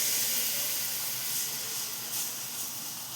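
Semolina batter for uttapam sizzles in hot oil in a pan, a steady, soft hiss that fades and swells slightly over a few seconds with no other sounds.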